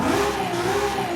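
A racing 3-litre inline-six turbo engine in Forza Horizon 5 holds a steady, strong rev with a smooth mid-pitched drone, loud and close.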